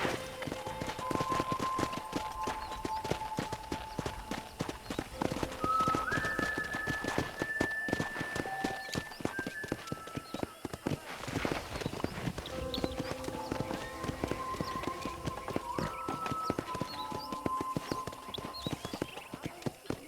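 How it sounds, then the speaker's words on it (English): Horse hooves clip-clop at a steady walking pace in the Western game Red Dead Redemption, close and continuous, over tonal background music. "I picked out a fine horse for you"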